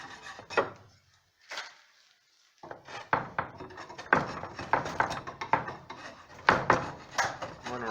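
A handmade draw knife shaves down a wooden ice scraper in a run of short, rasping scrapes, some closer together, with a brief quiet pause early on.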